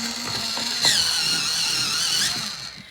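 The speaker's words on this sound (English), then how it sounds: "I'm just going to give it a quick sharpen" A light blue colored pencil is quickly sharpened, probably in an electric sharpener, giving a close, loud whirring grind with a higher squealing whine lasting about a second and a half, alone without talk.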